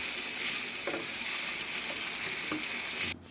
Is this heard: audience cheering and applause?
no